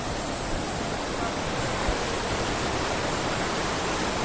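The Ruaha River flows at Kikongoma in a steady, broad rushing wash of water, loud and close, continuous with no clear pauses.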